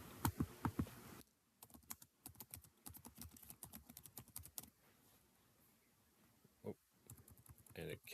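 Fingers clatter over a computer keyboard in quick bursts of close clicks, pausing briefly and resuming, with a few loud strokes at the start and a brief voice near the end.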